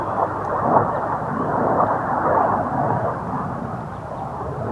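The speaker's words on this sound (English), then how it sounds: "That's an airplane." Airplane flying overhead, a broad rumbling roar that swells and slowly fades, moderately loud, with no talk during it.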